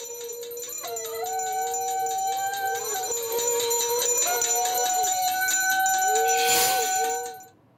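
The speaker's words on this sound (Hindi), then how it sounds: "वो घंटी बजाकर अपना विरोध दर्ज करा रहे हैं।" At a political street protest in Dehradun, a hand bell rings steadily alongside metal plates being beaten. A sustained, clanging metallic chorus builds, then a harsh burst of clatter comes near the end before it cuts off.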